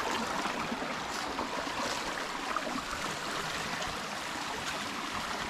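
Stream water rushing through a dense forest near a hidden waterfall, a constant broadband roar that stays loud and steady throughout with no voices.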